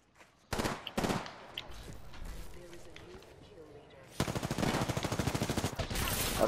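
Gunfire in the video game Apex Legends: a few sharp shots early, then a dense rapid burst of automatic fire near the end, with a player talking quietly underneath.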